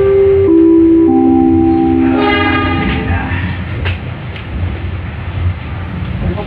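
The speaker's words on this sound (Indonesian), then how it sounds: "perjalanan kereta api Serayu akhirnya sampai di stasiun Purwokerto, tujuan terakhirnya ya" The Serayu night train pulls into Purwokerto station with a loud, close horn blast that shifts pitch, then carriages rumble and clatter on the rails as it slows, with a faint voice in the background.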